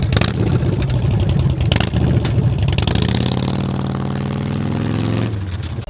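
Brand-new Harley-Davidson Low Rider ST motorcycle engine in Santa Barbara, California, loud and close, with a deep steady rumble that revs and climbs in pitch before easing off near the end.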